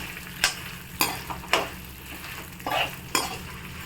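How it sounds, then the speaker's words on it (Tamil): Toor dal and dried chillies dry-roasting in a pan for milagu kulambu, stirred with about five sharp scraping strokes spaced roughly half a second apart over a low, steady background rumble; no voices. "இப்போது தோரம் பருப்பும் மிளகாவும் வறுத்துட்ருக்கோம்"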